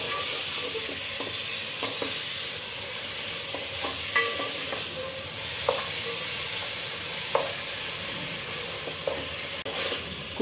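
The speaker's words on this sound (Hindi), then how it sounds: "150 ग्राम टमाटे गोल स्लाइस में कटे हुए टमाटे डाल के भून रही हूँ मैं" Coarse minced mutton and 150 grams of round-sliced tomatoes fry in a pan for Hyderabadi kheema tahari, a steady close sizzle with occasional soft scrapes and clicks of stirring.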